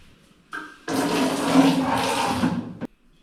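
Water gushes from a household tap after its clogged filter is checked, a steady rush lasting about two seconds that starts and stops sharply, close and fairly loud.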